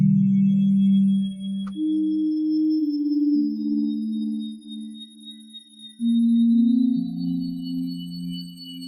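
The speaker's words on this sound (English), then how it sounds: "So that's what 17 sounds like." A wavetable synthesizer oscillator with a 17-sided polygonal waveform plays a sustained, buzzy tone alone, stepping through several held pitches with a bright, harmonically rich edge.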